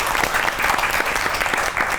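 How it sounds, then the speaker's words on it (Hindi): Studio audience applause on a Pakistani comedy talk show, a dense, steady burst of many hands clapping at close range, sustained for two seconds with no talk on top. "बहुत सी तालियां होनी चाहिए"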